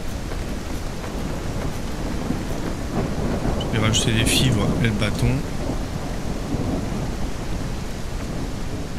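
Rain pours steadily with rolling thunder in the ambience of the survival game No One, a continuous downpour that swells briefly with a rumble while someone talks in French over it.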